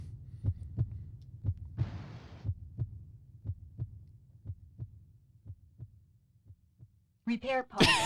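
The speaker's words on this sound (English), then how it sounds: "The music track for this level is a heartbeat" A slow, steady heartbeat pulses as the music track in the video game Kileak: The DNA Imperative, with about a dozen soft low thumps, a short hiss burst partway through, and a voice cutting in at the very end.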